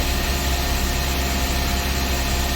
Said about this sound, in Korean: 현재 공회전 RPM 돌아왔죠